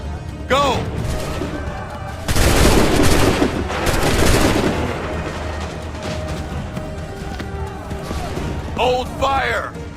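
Musket volleys crack out in Assassin's Creed 3, a dense burst of gunfire rolling for a couple of seconds with scattered shots around it and shouted commands before and after.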